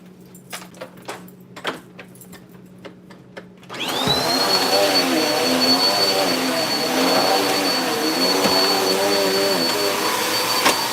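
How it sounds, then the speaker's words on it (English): A household vacuum cleaner switches on partway through, rising abruptly into a loud, steady whine with a sustained high tone that holds to the end, after a quieter stretch of scattered clicks and handling sounds. "And then I'm just gonna vacuum the rest up."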